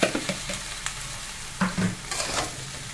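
Onion, garlic and green chilli fry in a pan and are stirred. A low sizzle runs throughout, with scraping stirs and soft knocks against the pan, close by and without speech.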